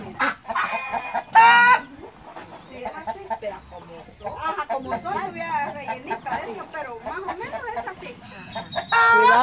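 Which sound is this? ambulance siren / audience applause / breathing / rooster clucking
rooster clucking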